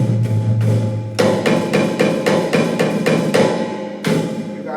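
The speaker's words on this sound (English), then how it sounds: "how about the sound of this kick? Really, really nice." A kick drum thumps out a steady pattern of punchy low hits alongside cymbal and snare strikes, a full drum kit played loud and close with no talking.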